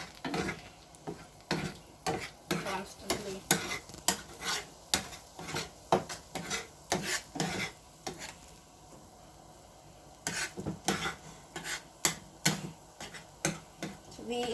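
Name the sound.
stirring Maggi noodles with egg and masala in a pan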